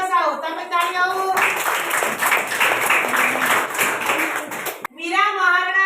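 Several seconds of lively clapping from a school audience at an essay competition prize announcement, sitting between stretches of a speaker naming winners over a microphone.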